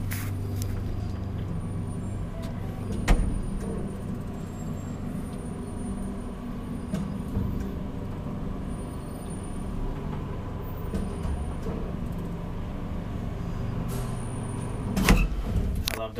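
A 1964 Valmet-Schlieren traction elevator in an apartment building at Kuikankatu 1A, Järvensivu, hums steadily through a ride, with a solid clunk near the start and another near the end.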